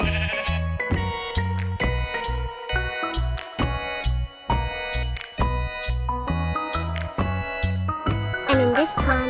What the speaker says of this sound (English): And this is a sheep, an animal with soft wool.